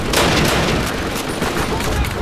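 Gunfire and explosions from a street battle in the video game Call of Duty: United Offensive, a loud, dense barrage of shots and booming blasts blending into continuous rumbling noise.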